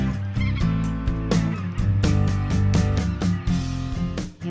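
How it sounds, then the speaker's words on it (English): Specklebelly geese fly overhead during an early-season hunt in Arkansas, a dense flock calling constantly with overlapping honks and yelps, loud and close, with no one talking. "I can actually hear the geese flying around."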